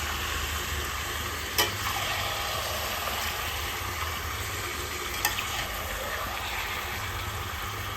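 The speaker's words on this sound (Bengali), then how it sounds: "এবার আমি চিকেনগুলোর সাথে পেঁয়াজগুলো একসাথে ভালো করে তেলের মধ্যে নেড়ে নেব" Chicken pieces and onions being stirred in hot oil in a pan, a steady continuous sizzle with two brief clinks of the utensil against the pan, close and moderately loud with no talking.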